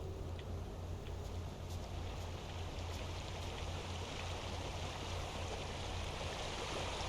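A river stream in The Outer Worlds flows with a steady, broadband rushing wash, constant and unbroken, heard alone with no voices.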